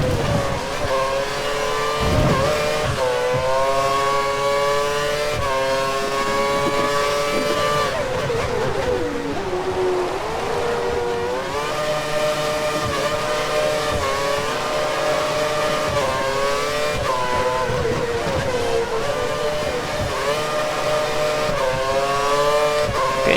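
F1 race car in the F1 2013 video game cornering on a wet Malaysian track, its high-pitched engine whining continuously with revs dipping and climbing through the turns, steady and loud throughout.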